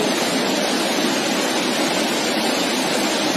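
Water rushes hard through a river in Kinnaur near a broken bridge, a steady, loud, close roar of turbulent flow filling the whole clip with no voices.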